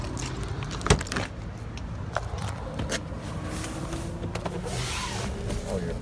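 Power windows on a 2011 Jeep Wrangler Sahara run with a low motor whine inside the vehicle, accompanied by a few clicks and thumps, with no talking.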